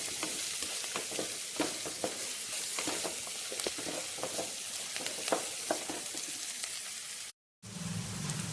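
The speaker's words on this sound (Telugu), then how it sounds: "ఉల్లిపాయ దోరగా వేసేద్దాం ఇలా వేసాలండి" Sliced onions frying in a pan for prawn biryani give a steady, close crackling sizzle with scattered sharper pops and stirring clatter, continuous until a brief cut near the end, then resuming.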